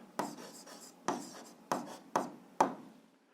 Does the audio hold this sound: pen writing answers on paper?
yes